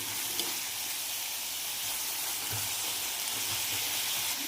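Mixed vegetables with carrot pieces sauté in a pan for paneer masala, making a faint, even sizzle with low stirring rumbles underneath and no voices.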